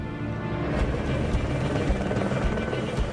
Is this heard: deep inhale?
no